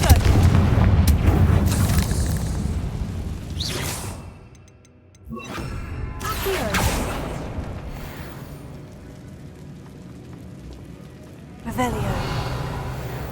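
A Confringo blasting spell blasts in the video game Hogwarts Legacy, giving loud booming bursts with whooshes, separated by a brief quiet gap, and a voice talks over parts of it.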